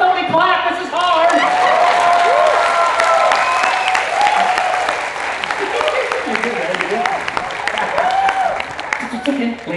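Audience applause at a live puppet show on opening day of the Toronto CNE, with loud sustained clapping and crowd noise and voices and laughter mixed throughout.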